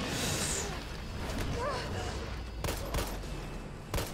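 Gunfire in the game Resident Evil 3 Remake: a few sharp shots cut through dense in-game noise near the end, under a continuous wash of game sound.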